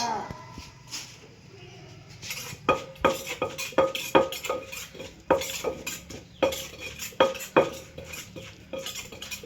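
Pounding of papaya salad in a mortar: a steady series of sharp, knocking thuds in even rhythm, close by, with someone talking over it.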